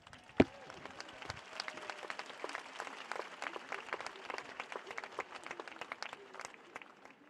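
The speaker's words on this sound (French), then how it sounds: "Je voudrais qu'on s'applaudisse vraiment ensemble." A church conference audience applauds together, a faint, steady patter of many hands clapping continuously for several seconds after one sharp knock at the start, with no talk over it.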